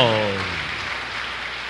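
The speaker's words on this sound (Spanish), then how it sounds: "Un fuerte aplauso al Señor" A church congregation breaks into dense, steady applause after a voice fades out, the clapping a broad wash that carries evenly to the end.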